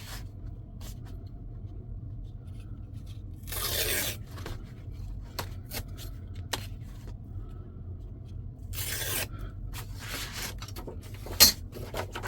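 Paper being ripped for a Christmas collage: two long tearing bursts stand out against a quiet room hum, with a few small rustles and taps between them and one sharp click near the end.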